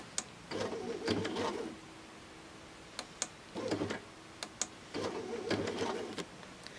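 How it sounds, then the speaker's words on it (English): A Baby Lock Sashiko sewing machine stitches at full speed in three close bursts of rapid mechanical whirring and ticking, separated by short pauses and soft clicks. "So what that looks like full speed as we're sewing is like this."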